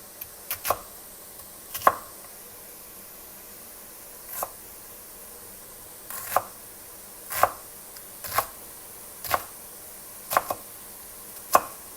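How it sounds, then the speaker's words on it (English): A knife chops an onion on a cutting board in a quiet kitchen: about a dozen crisp, close taps in loose, irregular bursts with short pauses between them, and no talking. "I'm going to chop up the rest of this onion"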